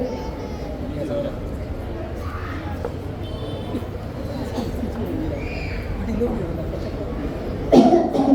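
An elderly mother coughing during a staged family play, rough repeated coughs mixed with background voices and murmuring, a louder burst near the end.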